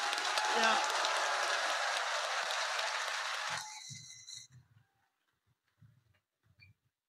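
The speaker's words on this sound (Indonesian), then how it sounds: "Kita berikan tepuk tangan yang kuat." Crowd applause at an Indonesian public event, dense and loud for about three and a half seconds before it quickly thins out into a few scattered claps and quiet room noise.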